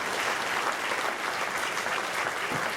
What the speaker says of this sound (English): give my dad a nice big round of applause